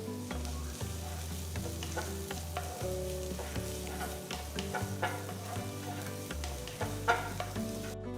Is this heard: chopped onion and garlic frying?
yes